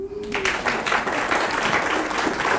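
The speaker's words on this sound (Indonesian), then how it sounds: "biasanya kalau udah disebut judul acara langsung disambut dengan tepuk tangan" An audience at a high school literary criticism competition final breaks into applause, which starts abruptly after a short quiet moment and continues as steady, fairly loud clapping.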